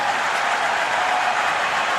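A stadium crowd at a DC United football match roars steadily, a dense, even wash of cheering and applause holding throughout.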